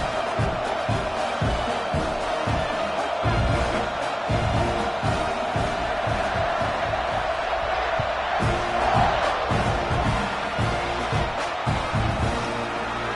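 A football stadium crowd at an SEC game, Arkansas versus Texas A&M, roars steadily before kickoff, a dense, sustained wall of cheering and shouting with no single voice standing out.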